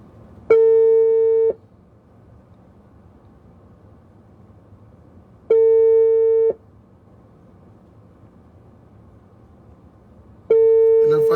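Telephone busy signal on a callback attempt: three evenly spaced one-second tones separated by about four seconds of near silence, clear and close.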